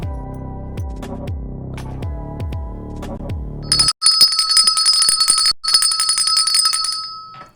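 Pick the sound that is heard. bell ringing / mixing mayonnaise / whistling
bell ringing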